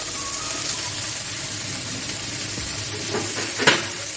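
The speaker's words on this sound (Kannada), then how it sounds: "ಈಗ ಈ ಕಡೆ ಇನ್ನೊಂದು ಪ್ಯಾನ್ಗೆ ಒಂದು ಕಾಲು ಸ್ಪೂನಷ್ಟು ಆಯಿಲ್ ಹಾಕ್ಕೊಂಡು ಈರುಳ್ಳಿ, ಟೊಮೆಟೊ," Onion and tomato fry in about a quarter spoon of oil in a pan on a home gas stove, giving a steady close sizzle. A brief scrape of stirring comes near the end.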